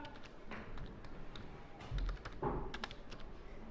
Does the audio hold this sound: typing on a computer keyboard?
yes